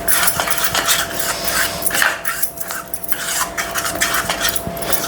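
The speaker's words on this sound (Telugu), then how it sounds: "సిమ్లో పెట్టుకొని ఇట్లా కలుపుకుంటేనే మనకు మంచిగా అవుతుంది" A spoon stirs an oats ice cream mixture in a pan on a low flame, scraping and clinking steadily against the metal close up, with a dog barking faintly in the background.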